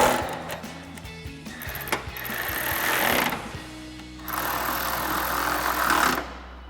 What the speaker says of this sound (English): we'll tighten it all down using our 10mm socket.